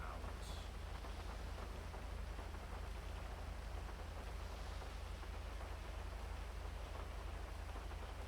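Rain falling downtown in the GTA role-play video game: a steady, low hiss that continues unbroken and evenly, with nothing else standing out.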